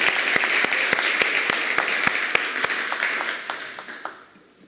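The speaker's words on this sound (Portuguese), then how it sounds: "Podemos aplaudir o louvor do Senhor? Vamos aplaudir." A church congregation applauds in praise during a worship service, dense clapping from many hands sustained at steady volume and then thinning out and fading toward the end.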